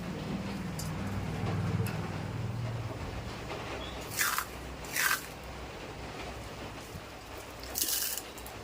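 Someone bites into crisp fried semolina jhuri bhaja, giving three short, sharp crunches spaced a second or more apart against a quiet background.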